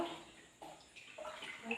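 Tap water runs and splashes while fish tank parts are washed, a moderate steady gush that shifts and breaks up as items are moved under the stream.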